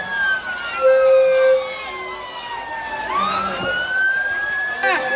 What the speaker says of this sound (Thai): รถพยาบาลนะครับ หลีกทางให้รถพยาบาลด้วยนะครับ